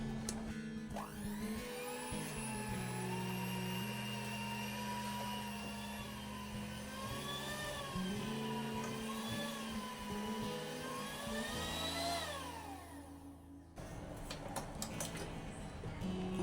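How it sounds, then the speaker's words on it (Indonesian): An electric hand mixer with spiral beaters works a small batch of croissant puff pastry dough, giving a steady, fairly loud motor whine with a droning hum that runs for most of the stretch, then drops out near the end. "Kalau ini cuma sedikit, pakai mixer seperti ini aja yang spiral juga nggak apa-apa ya."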